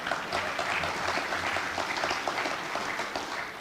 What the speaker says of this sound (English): That always gets the biggest round of applause.